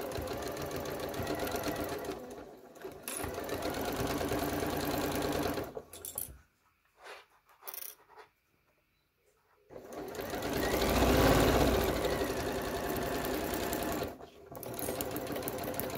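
A sewing machine stitches a mesh bulk bag in fast, loud whirring bursts that stop briefly in the middle, leaving near silence with a few small clicks, then start again with another long run.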